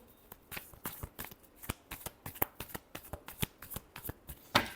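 Tarot cards being shuffled by hand in quick, crisp riffling bursts, roughly a dozen sharp flicks at an uneven pace, close and clear with no talking.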